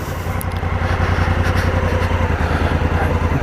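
Honda Africa Twin DCT motorcycle, a 2017 model, pulling away in first gear, its engine a close, steady pulsing rumble with a light scraping hiss on top throughout.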